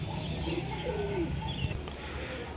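Pigeon cooing, soft low repeated coos near a pigeon loft with faint bird chatter and background hum, no talk.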